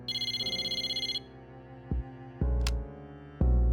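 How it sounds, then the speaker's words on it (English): A cell phone rings in the video game Persona 3 Portable: a bright, rapidly pulsing electronic ring for about a second, then low synth music tones and several sharp game sound effects. "Mitsuru's cell phone rang."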